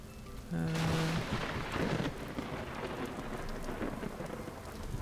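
A lightning storm in the Vintage Story video game: a sharp thunder crack bursts early, then rolls into steady rain that patters on for several seconds, fairly quiet overall, with no talking.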